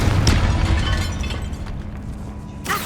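In Hogwarts Legacy, a Confringo spell bursts with a loud, deep explosive boom that rumbles for a couple of seconds, then a sharp crack lands near the end.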